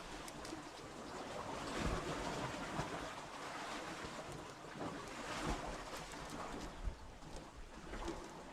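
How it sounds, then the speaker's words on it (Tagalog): Strong ocean waves and gusting wind surround a small fishing boat out on rough water, a continuous rushing wash with irregular surges and slaps, no voices. "Malakas na ang alon. At may current na din."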